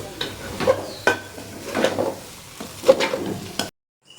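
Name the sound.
stirring and frying washed rice in a pan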